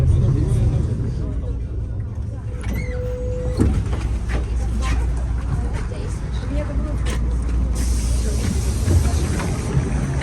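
Interior of a crowded city bus in Irkutsk: steady engine rumble and rattling, a brief tone and clunks, with passenger chatter blending into the background noise.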